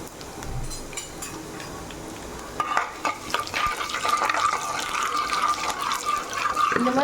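Mustard seeds, urad dal, fennel and cumin fry in hot groundnut oil, starting quiet, then breaking into a steady, loud sizzle with scattered pops and crackles that keeps going to the end.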